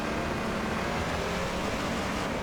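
Off-road truck engine from the racing game Baja: Edge of Control, droning steadily at high revs as the wheels spin at the start of a desert race, a continuous loud hum with no talking.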